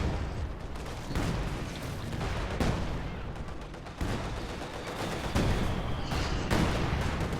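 Repeated artillery barrage from ZiS guns in the strategy game Company of Heroes 2, a dense, continuous rumble of distant booms and shell impacts with sharper bursts every second or so, loud and sustained with no clear voices.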